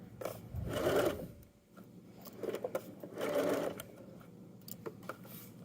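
A sewing machine stitches the waistband of a pair of joggers, with the pants wrapped around the machine's arm. It runs in two bursts, near and steady, with a quieter pause between them.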